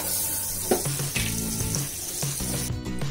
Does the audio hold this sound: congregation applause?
no